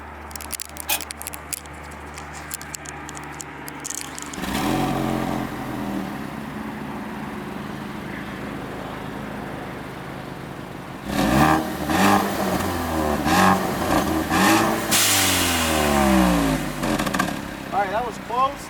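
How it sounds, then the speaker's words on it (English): A Ford Focus RS with its exhaust valve closed idles and then revs in several sharp, loud bursts, the engine note rising and falling with bassy, muted exhaust character over nearly twenty seconds. "I'm going to demonstrate the exhaust now with it closed and then with it open."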